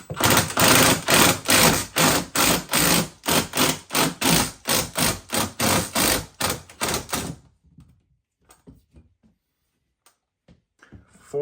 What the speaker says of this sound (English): I'm just going to pull the drill bit out from down there